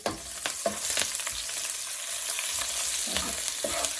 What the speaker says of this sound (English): I'm going to put ginger and chilies in oil.